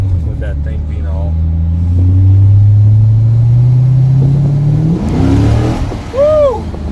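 A rebuilt Corvette engine revs up hard on a test drive, its rising roar swelling and then easing off, with people's voices heard around the engine noise.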